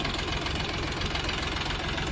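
An Orion RF 244 tractor engine with forced hydraulics runs steadily, a loud, continuous knocking diesel drone that stays even throughout without any voices.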